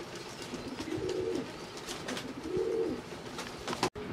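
A new adult pair of Pakistani highflyer pigeons coo twice in low throaty rolls about a second and a half apart, close by, over a faint steady room background.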